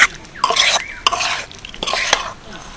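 Rice manchurian being tossed with coriander, chilli and white sesame, heard as a few close scraping stirs and utensil clinks against a pan over a soft background hiss, in short bursts without speech.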